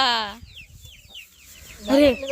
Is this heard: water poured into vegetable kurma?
no